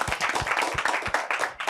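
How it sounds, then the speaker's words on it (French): A live audience claps hard for a guest at a French talk show event, a dense, loud patter of many hands with rhythmic bursts, a few voices mixed in. "On applaudit très fort pour Traoré."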